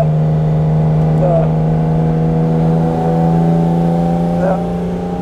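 A fully restored 1969 Mercedes 280 SL Pagode with a four-speed manual gearbox drives along, its engine giving a steady, loud drone with a small pitch shift partway through.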